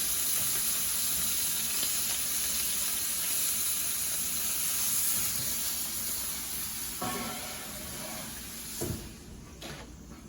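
A ribeye sizzles in a cast iron skillet with butter and garlic, a steady close hiss and crackle that softens toward the end, broken by a couple of brief clanks.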